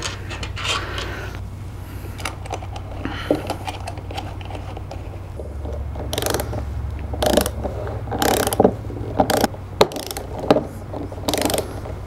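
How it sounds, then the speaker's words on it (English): A torque wrench tightens the bolts of a Roundkit 24 entry fitting at a retail fuel station, giving repeated ratcheting clicks in short bursts that grow louder toward the end over a steady low hum. "we always, always want to use a torque wrench whenever installing entry fittings"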